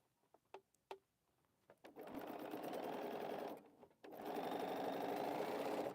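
Sewing machine stitching quilt blocks, a few light clicks and then two steady bursts of rapid mechanical whirring close by, with a brief pause between them.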